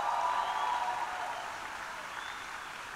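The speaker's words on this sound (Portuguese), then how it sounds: "dá uma salva de palmas a Jesus" A church congregation applauds for Jesus during a sermon, a steady wash of clapping that is loud at first and slowly thins out.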